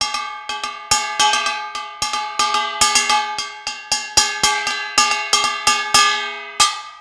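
Rhythmic pattern from Korean binari played on a kkwaenggwari small gong with a Javanese beater, bright metallic clanks in a fast, syncopated sequence with ringing overtones, loud and close with no voices.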